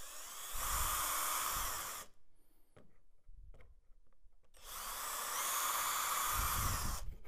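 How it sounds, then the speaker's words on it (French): An electric drill boring pilot holes, slightly wider than the screws, into a paint filter cabinet panel. Two loud, steady whining bursts of a few seconds each run with a quiet pause between them, with no talk. "Percez au préalable des trous légèrement plus larges que le diamètre de vos vis."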